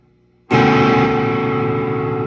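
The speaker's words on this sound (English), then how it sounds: "I'm also playing with distortion." A single electric guitar chord is struck with heavy distortion after a half-second of near silence. It rings out loud and sustained, slowly fading.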